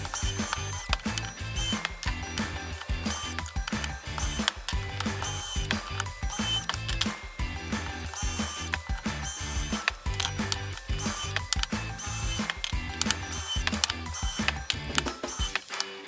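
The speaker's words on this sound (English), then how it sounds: "so I'm going to use my jig to pre-drill them" A power drill whirs and bites into wooden tool box handles held in a jig in repeated bursts, with clicking and grinding mechanical noise throughout, loud and close.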